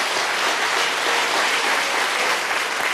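An audience claps steadily after a concert, a dense wash of applause with no voices.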